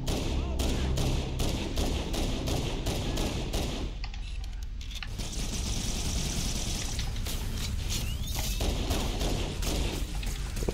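The Reach Needler in Halo: Combat Evolved fires in rapid, steady bursts of crystalline shots, loud and continuous, with a short break midway before the firing resumes.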